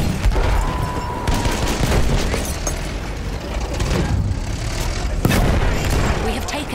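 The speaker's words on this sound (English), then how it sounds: "Machine gun right there!" Machine gun fire in Battlefield 1 multiplayer, loud, continuous rattling bursts mixed with booms and battlefield noise, with no clear gaps throughout.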